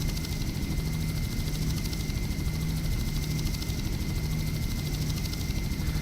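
A helicopter in Just Cause drones steadily for several seconds, a loud, continuous rotor and engine roar without pause.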